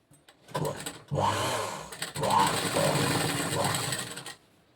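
A sewing machine stitches a blouse lining in two close, loud runs, a short burst followed by a longer steady whirring stretch, with brief pauses before, between and after.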